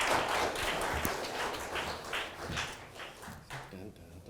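Audience applause at a business copywriting seminar: a dense wash of clapping that is loudest at the start and thins out toward the end, with voices talking over it.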